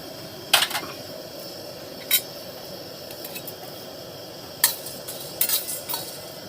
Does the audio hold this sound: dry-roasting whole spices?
yes